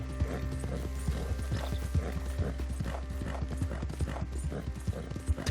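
Horse hooves clip-clop at a brisk, steady gait while riding in Red Dead Redemption 2, with many regular hoof strikes close up over a low background hum, and no voices.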